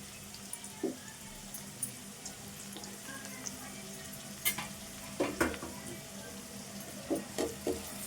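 Onions and curry leaves frying in a pan for a dried fish curry, a soft steady sizzle with occasional scraping stirs and light knocks, fairly quiet and close with no clear talk.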